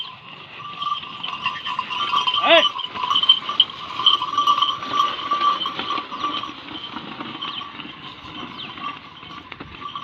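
A team of bulls moves along a dry field track, with hoof clopping and the jingle of harness bells or animal noises rising and falling at moderate distance. A brief vocal sound cuts in partway, and no words are spoken.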